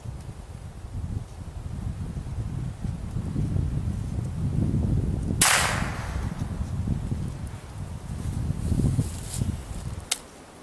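A Cricket .22 rifle fires a single sharp report at an outdoor range, loud against steady wind noise and rustle, with a fainter crack near the end.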